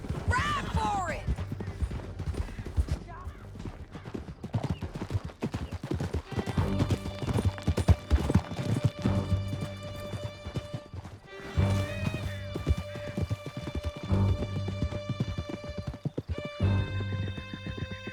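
Horses gallop in Red Dead Redemption 2, their rapid hoofbeats clattering close over dramatic orchestral music, with whinnies and occasional crashes mixed in.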